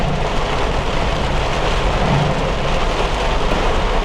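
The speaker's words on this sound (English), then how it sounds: "I stopped at a red light and the storm caught back up to me again" Heavy thunderstorm rain pounds a car on the road, a loud, dense, unbroken roar of downpour with low rumbling underneath, steady throughout with no voices.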